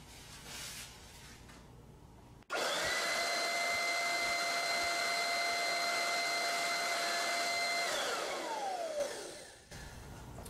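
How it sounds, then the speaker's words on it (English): A homemade DIY vacuum cleaner motor switches on abruptly and runs steadily with a loud whirring whine and rushing air, then spins down near the end. "It's sucking the air from this side and it's blowing it from this side."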